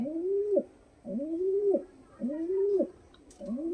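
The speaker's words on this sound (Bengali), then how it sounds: "এই কবুতরটা আমি আর কি ছেড়ে দিয়েছিলাম চার দিন পরে বাড়ি এসছে" A Giribaz pigeon cooing up close in four rhythmic, rolling calls with brief pauses between them, clear against a quiet background.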